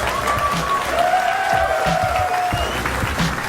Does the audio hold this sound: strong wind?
no